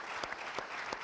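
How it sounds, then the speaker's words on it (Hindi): Studio audience applause on a Hindi game show, a short burst of dense clapping with a few sharper claps standing out, moderately loud and heard alone. "जोरदार तालियां हमारे"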